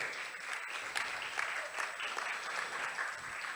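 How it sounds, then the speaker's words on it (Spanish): Applause for Dra. Stephanie Palacios, an endodontics dental surgeon being introduced, rolls on steadily from an audience, a dense even clapping wash with no voices on top. "Por favor, un fuerte aplauso para la doctora."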